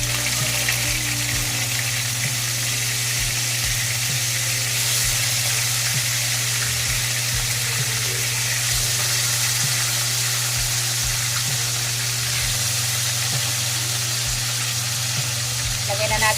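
Pieces of pork steak sizzle loudly and continuously in a hot pan, a close, dense hiss with a voice talking over it.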